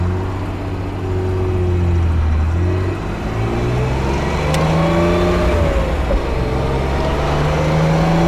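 A 1969 MG MGC's smooth straight-six engine revs loudly while driving, a close, continuous rumble whose pitch climbs and falls as the engine is worked through the gears.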